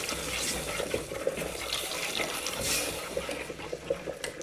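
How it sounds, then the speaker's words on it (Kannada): Water poured into onion masala in a pan, a soft splashing trickle with bubbling and sizzling, steady and close, lasting a few seconds at modest loudness. "ಅದಕ್ಕೆ ಸ್ವಲ್ಪ ನೀರು ಆ್ಯಡ್ ಮಾಡ್ಕೊಳ್ತಾ ಇದ್ದೀನಿ"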